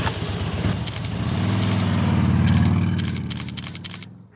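A 2020 Harley-Davidson Road Glide Special with a Stage II build and S&S 475 cam rumbles loud and close, its engine note rising into a sustained rev in the middle, then falling away.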